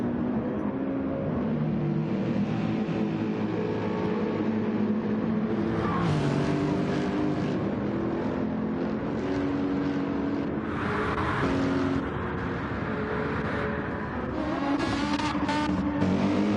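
Race cars lapping the Daytona circuit in Gran Turismo 7, with a continuous roar of engines as several cars drone and rev together, the pitch rising and falling as they accelerate and shift.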